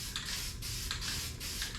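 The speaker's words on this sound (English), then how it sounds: "We've got some spray paint that converts the rust into a paintable surface." Aerosol spray paint of the rust-converting kind is sprayed onto rusty spots of a bus floor in a steady hiss, with three short bursts pulsing one after another at close range and no talk.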